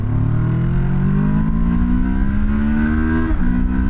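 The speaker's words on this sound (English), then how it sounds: "I really noticed it in the full throttle acceleration there, going all the way to red line." A Moto Morini X-Cape 700 motorcycle engine at full throttle, loud and close, its pitch rising steadily toward the red line, then dipping briefly at a gear change before climbing again.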